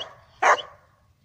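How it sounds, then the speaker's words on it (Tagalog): A pet dog at home beside a vegetable garden gives a single sharp, loud bark close by, then quiet. "Dito ang aso ko."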